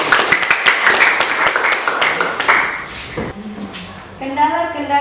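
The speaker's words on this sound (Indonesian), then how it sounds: "Kita kasih aplaus." Indoor audience at a school presentation clapping, a burst of scattered applause that fades out after about three seconds, followed by a voice speaking.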